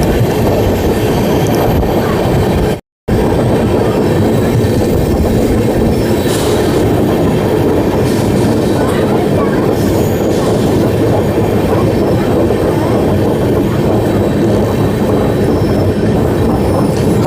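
Jan Shatabdi Express between Raigarh and Gondia rolling through a long curve, steady loud rumble of carriages with clickety-clack and faint wheel squeal, continuous from start to end apart from one brief dropout near the start.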